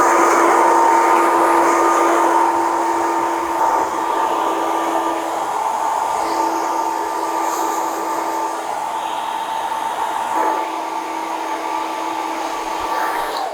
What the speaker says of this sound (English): Let me just dry it through a little bit for you